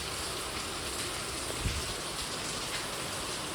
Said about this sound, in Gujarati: અમારા ગામમાં તો બહુ વરસાદ છે.